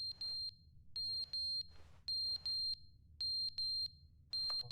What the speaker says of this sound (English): that beeping noise?